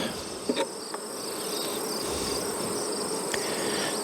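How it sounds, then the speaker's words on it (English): Honey bees at hive frames hum in a dense, continuous buzz, close and steady, with a few brief knocks early on. "I'll shake out the bees. They can live somewhere else."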